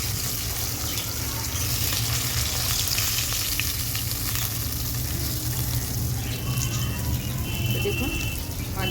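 Khoira fish fry in hot oil in a pan with a dense, steady sizzle and crackle that holds at an even level throughout. Faint kitchen clatter and a trickle of running water sit in the background.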